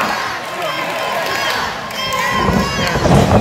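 A wrestling crowd at an inclusive indie show cheers and yells in a continuous roar, with shrill excited voices rising above the din and the noise building toward the end.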